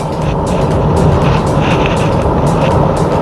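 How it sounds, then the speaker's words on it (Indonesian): A hybrid car's combustion engine kicks in to assist the electric motor while driving. A loud, steady low-pitched engine drone and road rumble fill the whole stretch, with no talking. "Jadi motor listrik, motor bakarnya tiba-tiba nyala, membantu motor listrik untuk menggerakkan mobil ya."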